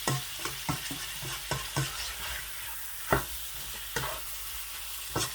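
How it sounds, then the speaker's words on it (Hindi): Mutton fries in a kadahi under a soft steady sizzle, punctuated by regular thumps and scrapes of a spoon stirring the meat every half second or so; no speech. "अभी तकरीबन 10 मिनट तक मैं इसी तरह से गोश्त को अच्छी तरह से भून लूँगा।"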